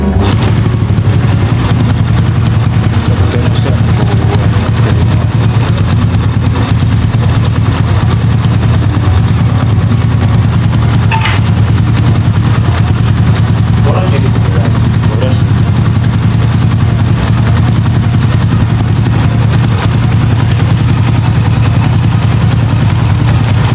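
A freshly rebuilt Honda Supra 100 motorcycle engine runs steadily, a loud, even, rapid idle chatter held throughout with little change.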